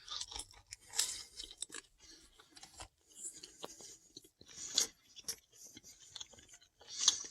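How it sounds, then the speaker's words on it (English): Crunchy crust of a medium cheese pizza with pepperoni and bacon toppings being chewed close up, with soft bursts of crunching spread irregularly over several seconds and no talking. "The crust is pretty good."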